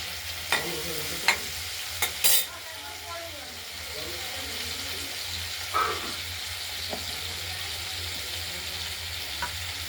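Ground spice paste with turmeric fries in a pan with a low steady sizzle, broken by a few sharp scrapes and clinks of stirring, close by.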